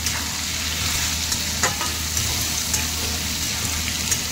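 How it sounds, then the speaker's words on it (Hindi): Boiled fenugreek leaves fry with gunde and raw mango in a pan, giving a loud, dense, continuous sizzle like rain on a surface, with occasional light stirring clicks and no voices. "मेथी को हमने हल्का सा उबाल के लिया है 2 से 3 मिनट के लिए, ये भी हम इसमें डाल के भून लेंगे।"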